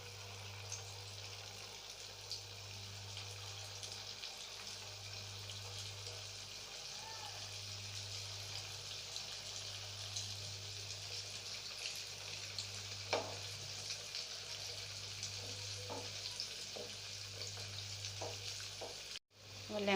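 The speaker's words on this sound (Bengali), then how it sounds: "গ্যাসের আঁচটাকে লোতে রেখে ল্যাংচাগুলো ভাজছি।" Chhana lengcha sweets frying in hot oil over a low gas flame, giving a steady, quiet, continuous sizzle with a faint low hum and occasional soft pops, with no talk.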